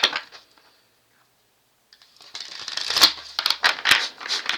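A deck of cards is shuffled close by: a brief riffle at the start, a pause, then a longer run of crisp flicking and snapping card sounds.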